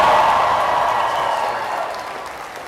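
Graduation audience at a DMU ceremony breaking into loud cheering and applause, a dense crowd roar that is strongest at the start and eases slightly over a few seconds.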